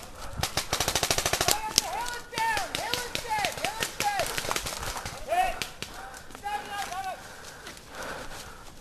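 Rapid bursts of paintball guns firing during an outdoor game, starting in a dense volley and continuing as scattered pops, with shouted voices and whistle-like calls mixed in.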